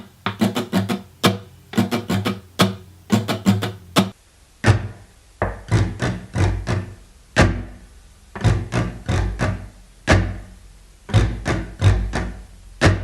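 An electric guitar plays a single-note riff with no chords: plucked notes in short, repeating clusters separated by brief gaps, clear and alone.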